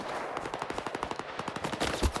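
Rapid automatic gunfire from enemies shooting at the player in the video game Stalker 2, a dense, steady burst of close, loud shots running the whole moment with a heavier hit near the end.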